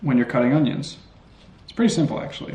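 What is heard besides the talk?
No everyday noises stand out.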